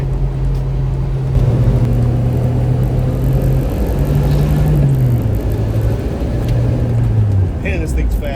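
Suzuki Samurai with a 2.0L engine swap cruising near highway speed at high revs, a loud steady engine drone with road and wind rumble inside the cabin, pitch rising and falling slightly as the driver talks over it.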